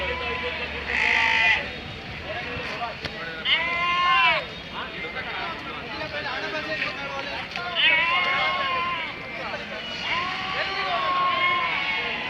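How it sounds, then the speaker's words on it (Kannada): A flock of sheep bleats over and over at the Tumakuru lamb market, many overlapping cries near and far, with people talking now and then underneath. "ಕುರಿ ಹಿಂಡು ನೋಡಿ"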